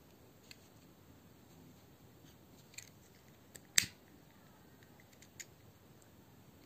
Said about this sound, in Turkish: İpimi arkasına getirip kısacık kesiyorum.